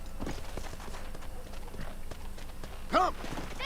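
Horse hooves galloping in the video game Red Dead Redemption: a steady, rapid clip-clop rhythm running throughout at moderate loudness, with a brief horse whinny near the end and some game voices mixed in.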